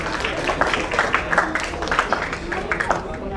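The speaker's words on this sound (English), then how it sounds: "Can we please have another huge round of applause?" An audience at a football league trophy unveiling ceremony in Mumbai applauds, with a dense, steady patter of many hands clapping, moderately loud and continuous for a few seconds.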